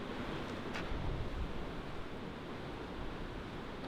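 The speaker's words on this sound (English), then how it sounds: "Oh, that's pretty windy today. Sounds like it." Wind blows hard along the coast in Tasmania, a dense steady rush of gusty noise buffeting the microphone, with distant surf blended in and no talk.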